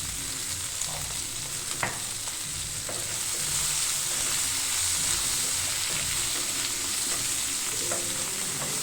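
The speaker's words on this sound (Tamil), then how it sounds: "இப்போது இந்த கோவக்காய்க்கு தேவையான அளவு மஞ்சள் தூள், உப்பு சேர்த்து" Ivy gourd frying with turmeric and salt in a pan, a steady close sizzle with occasional stirring scrapes and light knocks, no voices.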